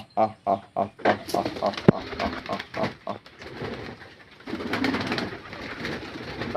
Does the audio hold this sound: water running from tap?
no